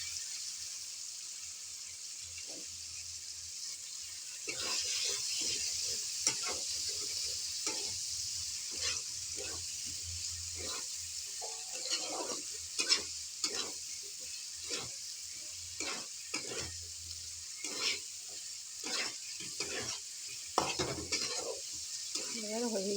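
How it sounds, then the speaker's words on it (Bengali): Drumstick pieces fry in a masala-coated pan with a steady bright sizzle, while a spoon repeatedly scrapes and knocks against the metal in an irregular rhythm, close up, with no talking. "সাজনাটা একটু ফ্রাই হয়ে যাবে।"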